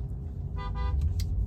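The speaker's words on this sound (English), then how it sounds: "Who's honking?" A car horn honks at a traffic light, two short toots in quick succession over steady engine and road rumble from inside a vehicle.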